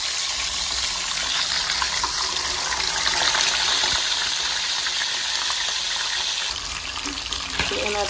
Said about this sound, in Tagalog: nagpainit na lang din po ako ng mantika kasi kailangan nating pirituhin yung ating tilapia